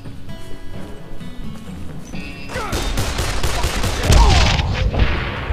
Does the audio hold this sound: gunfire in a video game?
yes